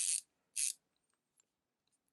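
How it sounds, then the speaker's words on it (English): The micro ratchet of a GOYOJO 1/4in drive torque wrench gives two crisp, close clicking bursts about half a second apart, followed by a few faint ticks against near silence. "So here's the ratchet. So it's kind of a micro ratchet. You can hear it."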